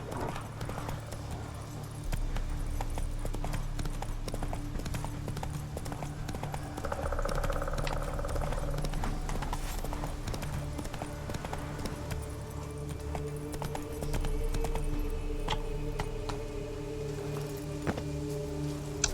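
Roach, Geralt's horse in The Witcher 3: Wild Hunt (Hearts of Stone), clip-clops along at a steady pace over a low ambient game soundscape and music, hoofbeats running throughout.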